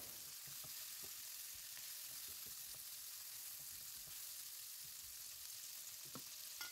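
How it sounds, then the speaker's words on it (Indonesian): Chopped chicken and shrimp stir-fried in a wok for seafood fried rice vermicelli, a steady loud sizzle with scattered scraping and stirring clicks, no talking. "Masukin udang, oseng-oseng ayam sama udangnya sampai matang."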